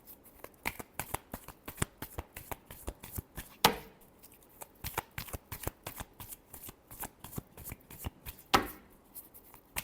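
Tarot cards riffled and shuffled by hand, a fast, close run of crisp slapping flutters and ticks with two sharper louder snaps, quiet overall and with no talking.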